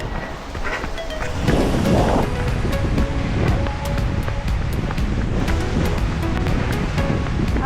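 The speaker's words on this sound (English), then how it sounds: "This is the same Twilight waterfall we went and checked out before the race." Twilight waterfall in the Columbia River Gorge in Oregon, a loud continuous rushing roar of falling water close by, steady throughout with wind buffeting the microphone and no talking.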